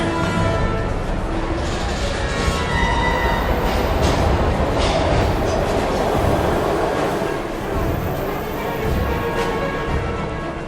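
Train in the video game Heavy Rain, a loud steady rumble of rolling railcars with clattering wheels and occasional faint squeal, continuous throughout.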